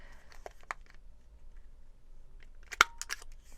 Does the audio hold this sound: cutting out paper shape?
yes